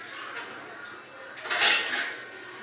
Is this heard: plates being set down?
yes